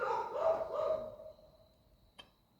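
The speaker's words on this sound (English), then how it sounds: "The dogs are howling." Dogs bark and howl at a distance, a few drawn-out yelping calls in the first second that fade into quiet, with a brief faint knock near the end.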